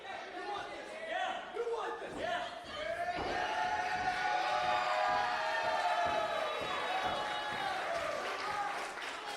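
Cheers and applause rise from a live independent wrestling crowd in Rhode Island and hold loud and steady, while a commentator talks over the noise.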